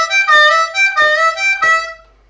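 A blues harmonica plays a lick, with three or four punchy, reedy phrases separated by short breaths. It is played solo, close and loud, and ends with a brief pause.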